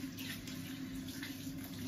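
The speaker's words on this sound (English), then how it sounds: "So run the tap." Water running steadily from a bathroom tap, a continuous hissing splash that holds even and fairly close throughout, with no one talking.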